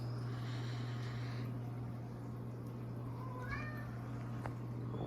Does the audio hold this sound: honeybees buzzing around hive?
no